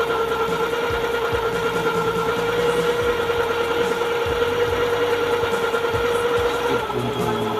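A Jaguar KA-03 sewing machine stitching a scallop design runs at a steady, loud mechanical whir and hum with a rapid repetitive needle rhythm, close up and continuous, with no talking.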